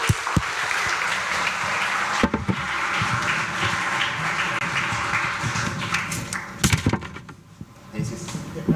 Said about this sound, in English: So let's give them a round of applause, guys.